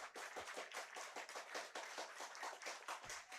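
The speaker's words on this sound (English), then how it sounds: "The claps have begun" Rapid, steady clapping from a baseball dugout crowd at a Guelph Royals versus Brantford Red Sox game, dense overlapping hand claps continuing throughout at a lively rhythm.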